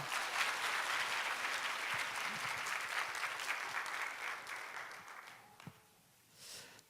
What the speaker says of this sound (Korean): 박수로 환영 부탁합니다.